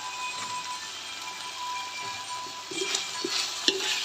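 Basil pork stir-fry ingredients sizzle in a hot pan while a spatula scrapes and clacks in irregular strokes, the frying bursting louder toward the end.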